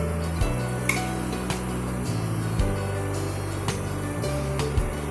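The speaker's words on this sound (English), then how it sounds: "The fritters should be fried till golden brown." Palm fritters frying in medium hot oil, a continuous soft sizzle with occasional light clicks of a utensil against the pan, no talking.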